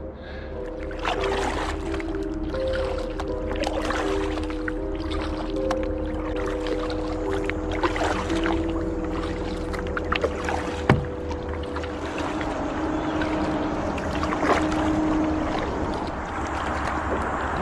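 A kayak paddles along the Croton River on a hot, humid day, with soft splashes of paddle strokes and moving water over a steady outdoor background, no speech.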